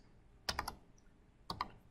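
Two short bursts of quick keystrokes on a computer keyboard, about a second apart, fairly close and crisp over a quiet room hum, from a keyboard that has been having problems.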